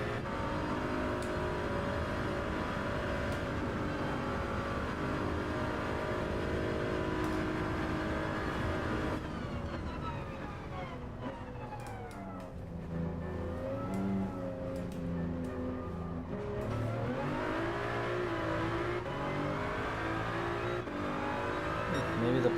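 A race car engine drones steadily as the car laps Spa at night in Gran Turismo 7, a fairly faint continuous hum with shifting revs through the corners, while someone talks over it.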